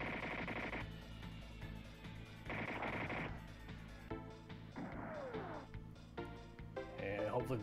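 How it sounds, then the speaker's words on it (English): A beam rifle attack plays out in the SNES game Super Robot Wars 3: rapid, loud synthesized blasting and crashing effects over chiptune music, with bursts repeating through the sequence. "Hopefully the beam rifle will take him out, and it did."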